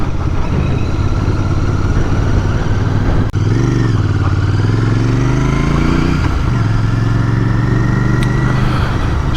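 A Royal Enfield Bear 650 motorcycle runs loud and close with a steady, throaty engine drone, and a brief rise and fall in revs partway through as it rides on.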